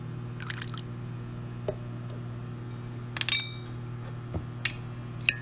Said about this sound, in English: Give that a little stir, nice and mixed up